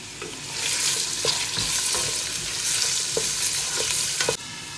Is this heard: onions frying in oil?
yes